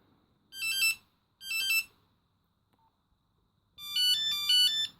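Nokia Orange 5.1 mobile phone ringtone number 1 from 1995: bright electronic beeping melody in two short bursts, a pause, then a longer busier phrase, clear and close with no talk.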